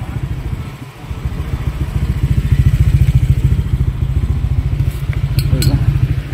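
A Honda Click 125 v2 scooter fitted with an MT8 power pipe exhaust idles close by with a fast, even, throbbing putter that swells slightly and holds steady, with a faint clatter near the end.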